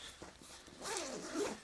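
A YKK AquaGuard zipper on a lightly waxed canvas bag being pulled open in one quiet, close, rasping stroke lasting about a second, preceded by faint handling rustles.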